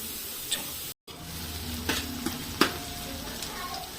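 Spices for a chicken biryani tempering sizzle steadily in hot oil in a home kitchen, a quiet, continuous frying hiss broken by a few sharp clicks and scrapes of stirring.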